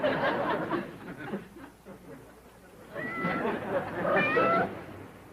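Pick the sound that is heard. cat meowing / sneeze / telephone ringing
cat meowing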